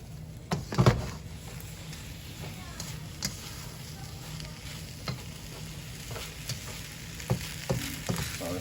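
Leftover cooked rice frying in a pan for fried rice, a steady low sizzle with scattered spatula scrapes and clinks, loudest in a brief burst near the start.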